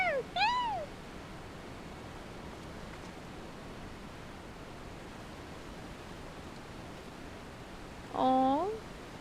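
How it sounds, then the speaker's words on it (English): A cat in the video game Final Fantasy XIV gives two short meows, one right at the start and another near the end, each rising and falling over a steady background hiss. "Giving a stone to a cat."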